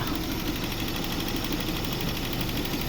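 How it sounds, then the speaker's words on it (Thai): A steady, smooth engine idle drones on at an even level, with a low rumble and a faint high whine, no voices. "ฟังเสียงเครื่องยนต์กันต่อครับ"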